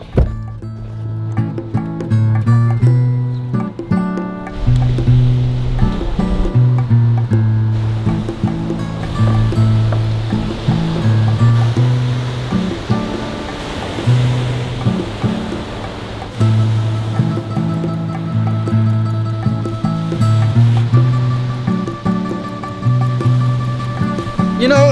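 Ocean waves break steadily at a beach, a loud continuous wash of surf rolling in and receding with no talk over it.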